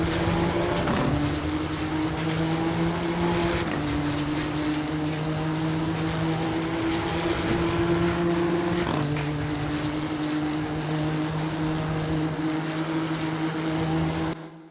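Nissan GT-R GT3 race car engine at full throttle in Assetto Corsa Competizione, a loud steady drone that drops in pitch with each upshift, rising again between shifts, heard alone.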